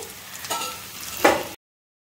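Food frying in a pan on a home stove, a soft steady sizzle with two brief louder bursts of crackling hiss as something is stirred or added, close and fairly quiet.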